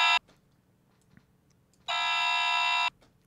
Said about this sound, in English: Sounds like my alarm.